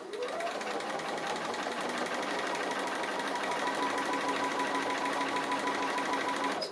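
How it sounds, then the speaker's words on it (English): A sewing machine runs steadily through free-motion stitching on a quilted tree appliqué, its needle whirring at a constant, close, fairly loud pace from start to finish with no talk. "So just free motion stitching."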